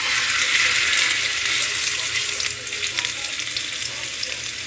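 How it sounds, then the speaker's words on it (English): Thick pork chops sear in hot coconut oil, a continuous close crackling sizzle with popping spatters that eases slightly partway through, with no talking. "what I'm doing right now is just searing it off in some coconut oil"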